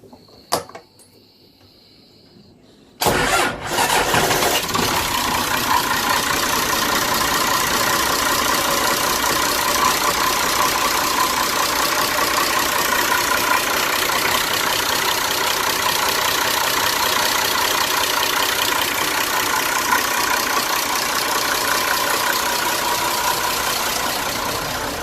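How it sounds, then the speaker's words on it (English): A flybridge cruiser's starboard marine engine cranks over after a quiet pause and catches, then settles into a steady, loud, close idle with a constant rumble and no talk. "I'll just move back to the starboard motor and just crank that up for you. You'll hear it's running quite good."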